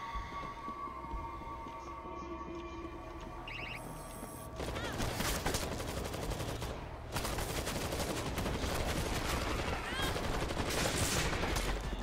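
An automated turret in World War Z firing in sustained loud bursts of gunfire, starting after a quieter opening of game sounds, with people talking underneath.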